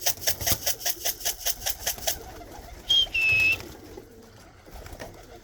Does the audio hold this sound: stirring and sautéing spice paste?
no